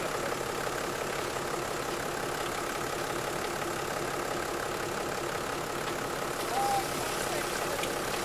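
An engine driving a shower idles steadily throughout, a constant low rumble with no voices over it.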